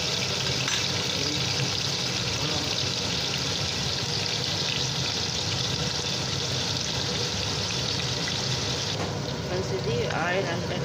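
Paneer frying in oil in a pan for a capsicum and paneer curry, a continuous, dense sizzle throughout, slightly quieter toward the end, with no talk over it.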